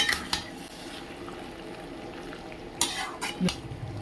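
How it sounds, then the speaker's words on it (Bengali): A mixed four-vegetable dish stirred in a pan, with a faint background sizzle broken by a few scraping strokes and clinks of a utensil against the pan at the start and near the end. "ভালো করে মিশিয়ে নেব"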